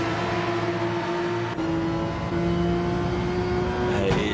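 A Porsche race car in a racing video game holds a loud, steady, droning engine note at high revs, close and continuous, with a slight shift in pitch toward the end.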